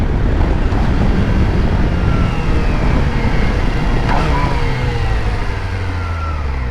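A 2023 Kawasaki Ninja ZX4RR fitted with a quick shifter accelerates hard from a stop to 60, its engine note rising through the gears under loud, constant wind rush heard close from the rider's position.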